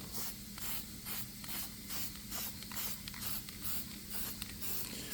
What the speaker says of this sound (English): So let's get it shook up and get it sprayed on there.